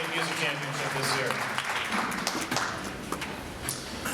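Audience at a high school Hall of Fame induction ceremony breaks into dense, steady applause that fills the room, loud and continuous, with a voice talking over it near the start.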